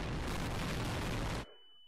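A loud, sustained explosion roars from a tank battle in Garry's Mod, with Star Wars AT-ST walkers fighting modern military tanks, filling about a second and a half before cutting off abruptly, leaving a faint steady tone.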